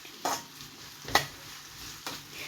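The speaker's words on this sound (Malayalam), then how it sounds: "അല്പം ഉപ്പ് ചേർത്ത് കൊടുത്തിട്ട് ഇളക്കി കൊടുക്കാം" Mango pickle mix stirred with salt in a pan, three separate scraping strokes spaced apart over a faint low sizzle, close and quiet.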